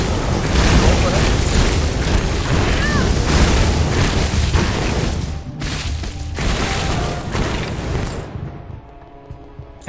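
Bomb explosion in the action RPG Chronicon, a loud, dense crashing boom that fills several seconds before cutting off into quiet, with a voice talking over it.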